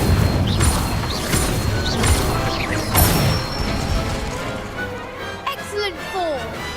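A fire spell cast with a wand in Hogwarts Legacy erupts as loud crashing, booming bursts with a whooshing rush, repeated several times over dense game sound, fading somewhat toward the end.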